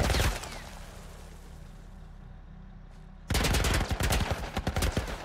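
Gunfire in the video game The Last of Us: loud bursts of rapid shots open and close the passage, with a quieter rumbling stretch between the volleys.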